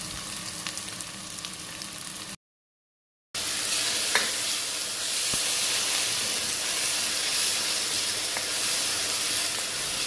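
Chopped onions frying in oil in a pressure cooker for a mutton paya dish, a steady close sizzle that jumps louder after a brief gap as the onions go in, with occasional stirring scrapes.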